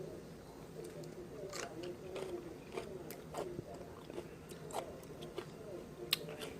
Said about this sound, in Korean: 제가 먹어보겠습니다. 근데 아삭아삭한 것 같아요.